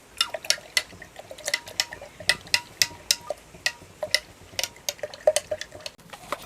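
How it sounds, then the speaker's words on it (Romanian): A teaspoon of soap detergent is stirred into a plant spray solution, heard as rapid, uneven tinkling clinks of a spoon against a container, close and bright, with no talk. "Punem o linguriță de detergent și amestecăm."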